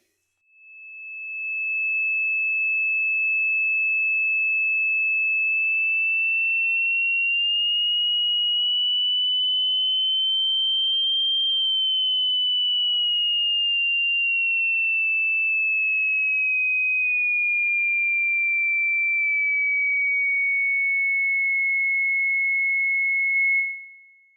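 A single pure high-pitched sine tone above 2000 Hz held for about twenty seconds, gliding slightly up then back down in pitch, steady and alone.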